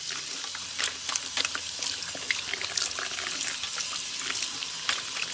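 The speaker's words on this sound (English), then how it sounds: "This is going to be the final rinse." Cold water runs steadily from a salon sink tap during a final hair rinse, a continuous close splashing hiss broken by small irregular spatters.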